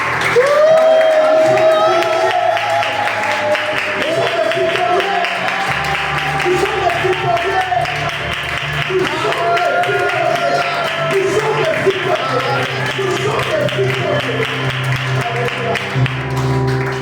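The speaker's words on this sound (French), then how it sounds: "acclame encore très fort avec le cri de joie" A church congregation cheers and applauds with joyful shouts, a loud sustained wash of clapping and voices under an amplified singing voice and music.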